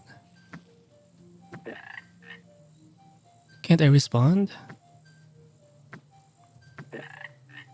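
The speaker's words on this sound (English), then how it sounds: "King Toad ate another frog." Loud croaking from the frog in the video game Gun Frog, several short croaks spaced apart plus one long warbling croak in the middle, with a voice speaking briefly.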